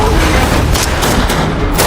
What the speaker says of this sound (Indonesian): Namun alih-alih bisa kabur, mobil mereka malah dihujani RPG.